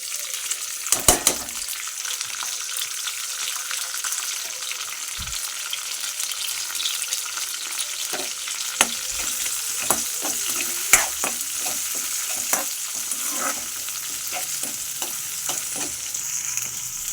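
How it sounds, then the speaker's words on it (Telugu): Green chilies, curry leaves and onion sizzle steadily in hot oil in a pan, a loud continuous frying hiss broken by scattered scraping knocks of stirring, with no talk. "ముందుగా ఆయిల్ పోయాలి ఆయిల్ వేడైన తర్వాత పచ్చిమిర్చి కరివేపాకు ఉల్లిగడ్డ"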